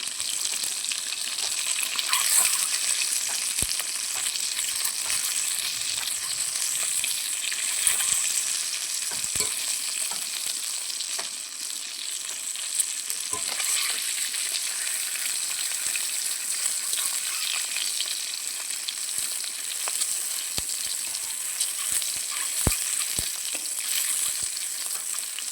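Fish fries in a pan with a steady, fairly quiet hiss and scattered crackles and pops that continue throughout.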